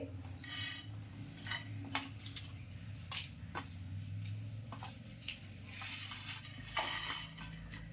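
Spices for veg biryani are dry-roasted in a pan and stirred, giving repeated scraping and clinking strokes of a utensil against metal, close and fairly quiet, in uneven bursts.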